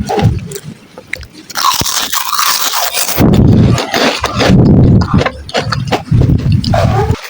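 Homemade onion crackers made from leftover rice and no preservatives are bitten and chewed close to the mic, giving loud, dense, brittle crunches in irregular bursts with no speech.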